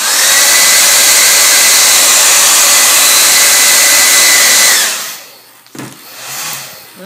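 A Jamberry mini heater blows hot air onto nail wraps, a loud, steady high-pitched whirring hum that runs for about five seconds, then cuts off abruptly, followed by faint handling noises.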